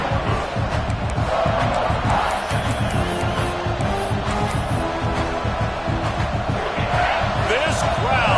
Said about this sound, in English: This crowd full of throats, splitting the eardrums